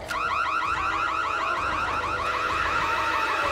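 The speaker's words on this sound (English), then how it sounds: "She then sets off this loud ass alarm and ruptures his coward eardrums." Loud electronic alarm from the horror film Hush, a continuous warbling, rapidly cycling whoop that blares steadily at full volume throughout with no voices.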